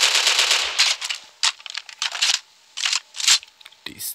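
Gunfire from a weapon in the zombie shooter SAS 3 rattles in rapid bursts, with a sustained stream at first, then short separated volleys, loud and up close.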